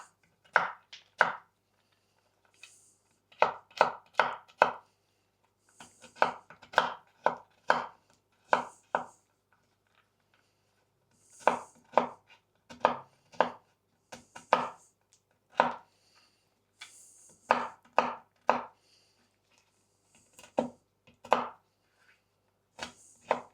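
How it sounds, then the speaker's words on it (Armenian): Macadamia nuts are chopped on a board with a knife, in quick clusters of sharp, close knocks separated by short pauses, with no talking. "Անհրաժեշտ է կտրատել։"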